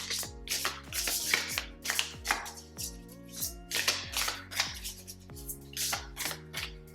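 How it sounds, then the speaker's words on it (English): A heart-shaped deck of oracle cards is shuffled by hand in a series of crisp, close riffles and taps, with soft music playing steadily underneath. "It's difficult to shuffle this deck."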